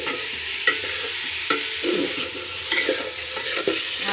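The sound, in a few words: vegetables being fried and stirred for veg dal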